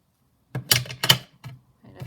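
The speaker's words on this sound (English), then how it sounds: "I'll just cut this piece off." Scissors cut a piece off for a junk journal, giving a handful of crisp close snips in an uneven rhythm with short pauses between them.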